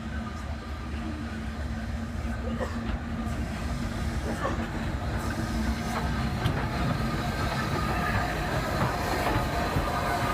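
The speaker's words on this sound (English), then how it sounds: "There's our train." A train rumbles past steadily and loudly, with rattling wheels and metallic clatter continuing throughout without a break, heard on the line between Leeds and Whitby.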